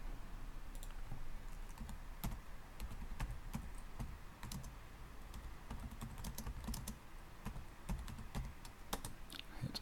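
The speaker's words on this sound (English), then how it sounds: "I'm going to type that into Google" Someone types a search into Google on a computer keyboard, with quiet, irregular key clicks and taps continuing steadily over a low room hum.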